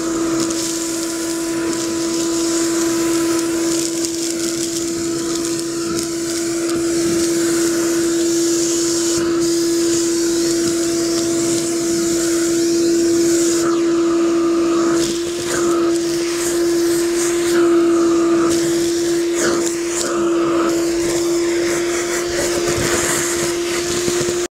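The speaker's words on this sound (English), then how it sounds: "So I'm going to vacuum up this whole cage." A vacuum cleaner runs steadily and loudly while cleaning out a chinchilla cage, its motor drone continuous throughout with scraping, rattling bits of debris and bedding being sucked up.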